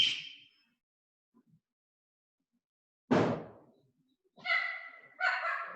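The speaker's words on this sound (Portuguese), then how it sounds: "A minha cachorra latina." A female dog barks indoors, a few sharp separate barks spaced by seconds of silence, a single clear bark mid-way followed by two quick yelping barks, fairly close but not very loud.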